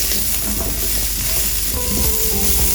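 Vegetables sautéing in hot oil for a beef steak side, a steady close sizzle with stirring scrapes throughout, no voices.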